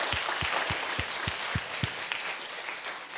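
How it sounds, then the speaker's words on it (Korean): A small church congregation claps at an ordination service, a steady patter of applause with a few hands beating in time early on, continuous and moderately loud throughout. "박수 한번 쳐줘봐."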